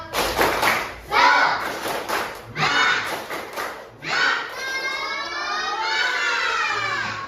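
A group of children in a classroom performs a rhythmic spirit clap, bursts of patterned clapping and thumps in short phrases, ending with a sustained shout from many young voices together.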